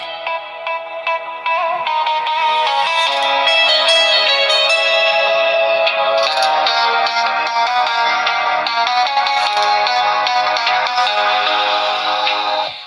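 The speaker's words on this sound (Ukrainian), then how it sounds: "музичку от з телефона запускаємо" Music plays from a phone through the small built-in speakers of a Chaojie Gen 3 five-inch speedometer display for Fardriver controllers, a bright, tinny melodic track at steady volume with no talking.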